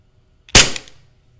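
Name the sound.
gunshot sound effect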